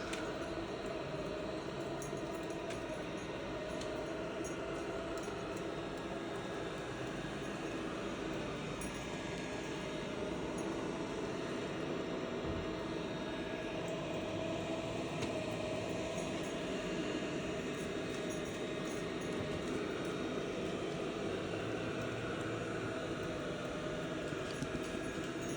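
A Shark robot vacuum runs nearby with a dog following it, giving a faint, continuous, even whirring hum that holds steady throughout with no voices.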